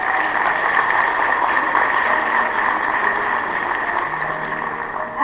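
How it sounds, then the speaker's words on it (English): Applause from the audience at a coronation ceremony as scholarship foundation board members are recognised, a steady broad wash of clapping that holds at one level for about five seconds. "please give them a round of applause"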